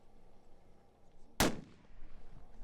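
A single sharp, loud long-range rifle shot cracks out at an extreme-distance shooting competition, rising abruptly from quiet outdoor ambience and fading quickly, with no talking.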